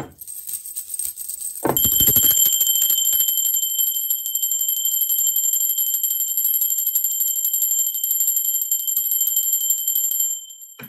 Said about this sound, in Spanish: ¡Va, campana!